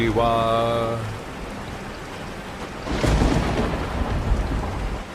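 A loud thunderclap crashes into steady heavy rainfall, following a brief tonal sound at the start.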